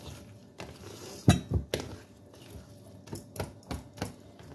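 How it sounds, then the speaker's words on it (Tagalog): Banana cake batter with walnuts stirred in a bowl, a run of close, sharp clinks and taps of a utensil against the bowl at an uneven rhythm, a few louder knocks early on, with no talking. "Ayan, haluin lang natin siya para mahalo ng mabuti"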